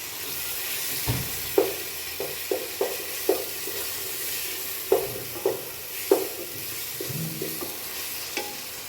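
Ginger-garlic paste fries in a pan for Bai vettu biryani, a continuous sizzle broken by a series of irregular scraping and knocking stirs of a spoon against the pan, close and fairly loud with no talking.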